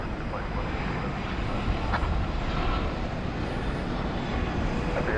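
A 14-year-old Airbus A380 on flight 8 at DFW, bound for Sydney, gives off a continuous, moderately loud engine rumble at night, with faint background chatter.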